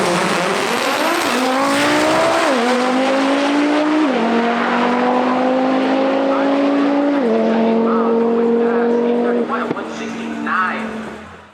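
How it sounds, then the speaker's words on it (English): A fast, high-power BMW drag car at a European drag racing event launches with a brief tire squeal, then screams hard and loud through several rising gear pulls, each one ending in an abrupt shift, before it fades at the end. "Now it was time for some drag racing."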